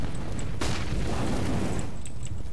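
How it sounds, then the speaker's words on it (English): A flashbang grenade goes off in Counter-Strike on the Nuke map with a single muffled boom, then a short decaying rumble under faint background game noise. "i throw you a flashbang"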